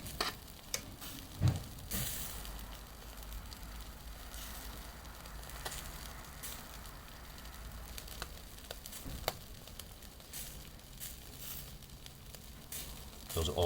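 Constant sizzling of sea bream and shrimp cooking on a charcoal grill, steady and moderately quiet, with occasional sharp crackles and pops.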